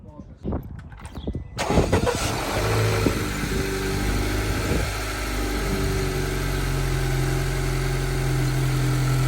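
A 2.0T Honda Accord fitted with a PRL intake cranks and fires after a few clicks, then settles into a loud, steady idle with slight rises in engine speed, recorded up close.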